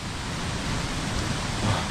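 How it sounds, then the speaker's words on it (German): Light February drizzle falls around a rider on a mill route near Rotenburg (Wümme) at about 9 degrees, a steady, even hiss of fine rain with no other distinct sounds. "es regnet, es nieselt"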